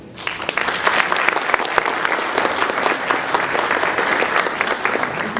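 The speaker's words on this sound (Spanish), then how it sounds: "un aplauso por favor para" Audience applause at a talk or book event, a dense, steady burst of many hands clapping that starts abruptly and holds at full strength throughout, loud and close.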